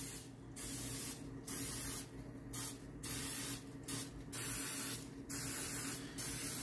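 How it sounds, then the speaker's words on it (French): Cooking spray from a Costco can is applied to a hot popover pan in bursts of sharp, close hissing, about eight short sprays separated by brief pauses over a low kitchen hum. "je vais enduire mes pop-over d'un spray de chez Costco pour aider à la cuisson au démoulage"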